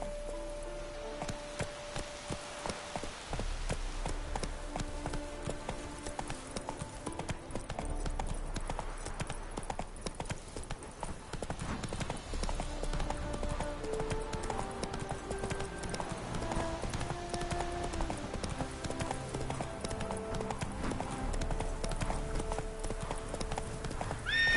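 Roach, a horse in The Witcher 3 game, gallops with steady, rhythmic clip-clopping hooves close by, continuous throughout, joined by occasional whinnies over a faint ambient bed.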